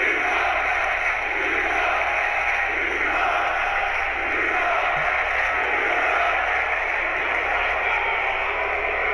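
A wrestling crowd voices disapproval of a wrestler in a steady, dense wash of jeers and shouting that runs continuously at moderate loudness, with no clear pauses.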